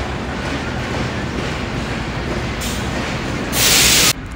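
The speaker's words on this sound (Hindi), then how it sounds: "ट्रेन आ गई, ट्रेन आ गई भाई। ये आ चुकी है ग्रीन लाइन, ये आखिरी ट्रेन है कराची जाने के लिए।" A Green Line passenger train pulls into Lahore railway station, a loud, steady rolling rumble that fills the space, topped near the end by a brief burst of hissing air.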